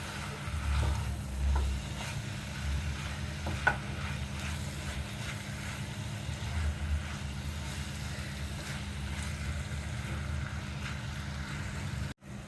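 Chopped onion fries with mutton liver in a pan, a steady soft sizzle with occasional stirring scrapes and one sharp knock, close and moderately quiet with no talk.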